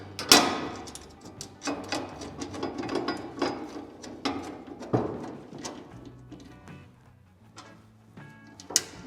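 Nuts being tightened by hand during assembly of a Masterbuilt Gravity 560 grill: quiet, close metallic ticks, clicks and small rattles in irregular bursts, with no talk over them.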